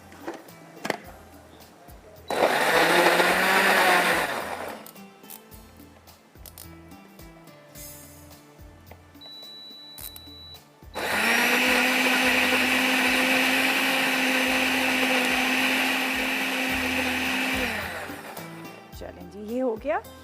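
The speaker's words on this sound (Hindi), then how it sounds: "मैं दही के साथ इसको पीस लूँगी" A kitchen blender grinds tomatoes with yogurt into a gravy paste in two loud sustained bursts, one short and one longer, with quieter pauses between them.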